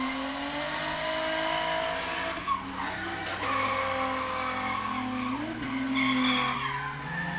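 Race car spinning out in a grip-style racing game event, tires squealing in a sustained skid over a droning engine note that dips and rises.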